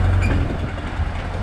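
A train passes near a mall boardwalk with an ocean view, giving a loud, steady low rumble that fills the short stretch.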